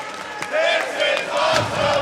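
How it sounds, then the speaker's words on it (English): A wrestling crowd at an NWA Samhain event cheers and chants loudly in rising waves, with rhythmic shouted bursts and a few sharp thumps over the roar. "And this crowd is loving it."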